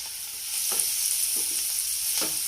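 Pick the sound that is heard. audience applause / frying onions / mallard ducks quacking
frying onions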